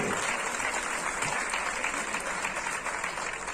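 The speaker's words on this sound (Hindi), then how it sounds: "आज के इस जामपुर भूषण से सम्मानित करने जा रहे हैं श्री अर्जुन देव चौधरी जी को तालियों की गड़गड़ाहट से" A crowd claps in dense, continuous applause at an honoring ceremony at a community gathering in New Delhi, steady throughout and heard from within the hall.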